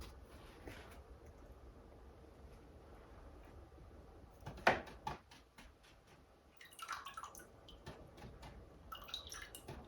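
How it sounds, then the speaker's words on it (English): Paintbrushes washed in a water container during an acrylic painting session, with faint drips, a sharp tap against the rim and soft swishing splashes, quiet and close. "Let's wash our brushes out."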